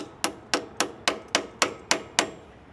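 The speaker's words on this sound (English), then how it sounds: "we're going to use the old peg as a hammer" A motorcycle foot peg pin is struck with the old peg used as a hammer while fitting new aftermarket pegs to a Honda, giving eight sharp, evenly spaced metallic taps, close and clear with no talk.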